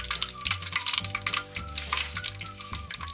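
Oil sizzles and crackles close up as banana fritters fry, with occasional stirring clatter breaking the steady bubbling hiss.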